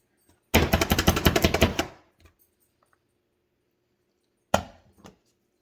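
Rapid knife chopping on a cutting board through roasted, seeded jalapeno peppers, a quick burst of close crisp taps for about a second and a half, then a pause and a couple of isolated thuds.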